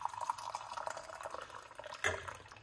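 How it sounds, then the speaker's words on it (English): Hot water being poured for rosemary tea, a soft, faint trickle and splash of liquid filling a cup, with a slightly louder gurgle near the end. "Hot water."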